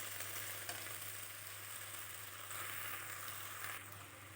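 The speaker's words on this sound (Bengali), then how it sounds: "দিয়ে দেব আলু কুচি, টমেটো কুচি, তারপর একটু নেড়ে চেড়ে" Chopped potato and tomato fry in a pan, a soft, even sizzle held low and steady with faint stirring, fairly quiet throughout.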